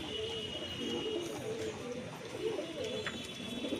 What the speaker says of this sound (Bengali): দুটোই নর পায়রা।